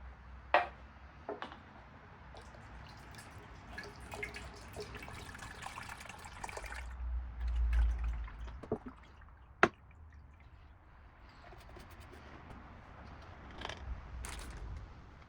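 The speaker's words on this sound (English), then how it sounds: "I'm using a funnel so I can pour it in faster without worrying about spilling it." Brake fluid trickles and glugs through a funnel into a pressure bottle during a BMW X5 brake fluid change, a faint, close liquid pour with scattered drips and small clicks, swelling briefly midway.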